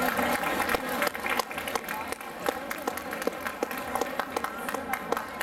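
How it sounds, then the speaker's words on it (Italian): An audience at a summer singing contest final in Millesimo claps steadily for several seconds, moderately loud applause with crisp individual claps and a host speaking over it. "Un applauso."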